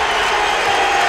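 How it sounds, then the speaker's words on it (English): A college basketball crowd at a DePaul versus Kansas game roars in a dense, sustained wash of cheering, loud and continuous through the brief moment. "And now this crowd's into it."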